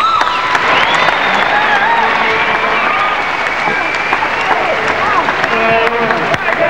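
Sustained applause from a large arena crowd at a 1990 National Basketball League grand final between the Brisbane Bullets and Perth Wildcats, steady and dense for the whole stretch with scattered cheers and whistles.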